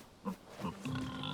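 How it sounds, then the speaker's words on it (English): Pigs grunt and oink in short, close bursts in the video game Dragon's Dogma 2, several calls overlapping over a steady background hum. "Leave the poor pigs alone."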